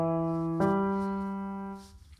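Two piano notes forming a minor third, E then G, the second struck about half a second after the first; both ring together clearly and sustain before fading out, with no talking.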